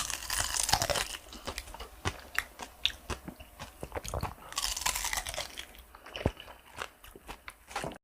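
Grilled whole Korean beef large intestine (daechang) being chewed up close, with steady wet, crunchy bites and chewing that run throughout, and a faint voice in the background.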